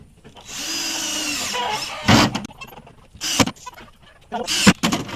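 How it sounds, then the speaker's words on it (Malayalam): A power drill drives screws into wood while a nest box is built for egg-laying hens. Three loud, short whirring bursts come close up, separated by quieter pauses, after a steady hum. "സ്ക്രൂ ഇവിടുന്ന് ഇതിന്റെ അഡ്ജിലേക്ക് സ്ക്രൂ ചെയ്ത് കൊടുക്കുക"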